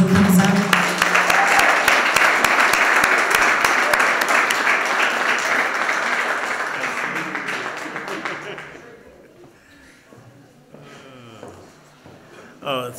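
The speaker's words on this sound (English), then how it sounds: "can we give him a round of applause as he comes up?" An audience at a Martin Luther King Jr. Day celebration in a church parish gives sustained, dense applause that fills the room, then fades out over several seconds and gives way to quiet with faint sounds.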